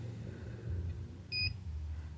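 A trailer plug tester on a truck gives one short, thin electronic beep, quiet against a low background hum, with no talking.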